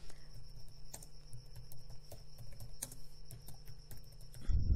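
Steady computer keyboard typing, a quick run of light key clicks at close range with a soft background hum, ending in a brief low thump.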